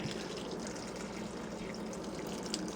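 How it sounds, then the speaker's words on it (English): Filtered spring water pours steadily into a cooking pot already holding chicken, potatoes, onions, garlic and spices, a continuous close splashing gush with no talk over it. "So now, I'm gonna add some water."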